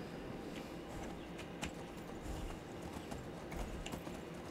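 Horse hooves clip-clop steadily on the ground in the Skyrim video game, a faint, even walking rhythm under a constant wash of ambient wind and background noise.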